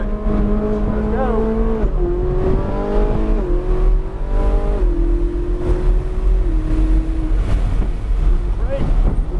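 A Ferrari driven on a track, its engine note climbing in stepped pitches through the gears, with loud wind rush over the microphone and a voice talking in the cabin.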